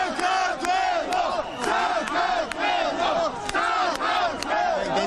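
A large protest crowd outside the Georgian parliament chants in unison, repeated rhythmic shouts rising and falling in a steady beat, loud and fairly close.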